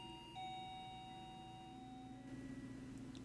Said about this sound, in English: I take a deep breath and the doorbell buzzes.